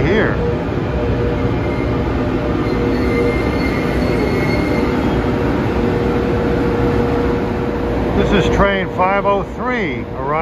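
LIRR commuter train from Oyster Bay rolling into Penn Station's platform area, a loud steady rumble of railcars with sharp wheel squeals rising near the end.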